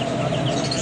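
Chickens cluck in a brief, busy burst over a steady noisy background, with no talking.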